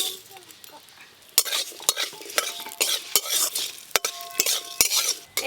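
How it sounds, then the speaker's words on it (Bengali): Fenugreek, mustard and fennel seeds with green chilli fry in hot oil, a soft steady sizzle broken by repeated sharp clanks and scrapes of a stirring utensil against the pan, close and fairly loud. "এখানে নিয়েছি মেথি, সর্ষে, মৌরি আর কাঁচা লঙ্কা। একটু ভালো করে প্রথমে ভেজে নেব।"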